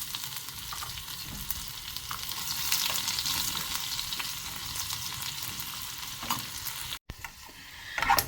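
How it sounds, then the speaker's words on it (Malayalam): Shallots sautéing in hot oil after mustard seeds have spluttered, made for a carrot pachadi. A steady close sizzle and crackle with occasional stirring scrapes runs throughout, with a brief dropout near the end. "നമുക്ക് ചുമന്നുള്ളി ഇട്ട് ഒന്ന് വഴറ്റിയെടുക്കാം."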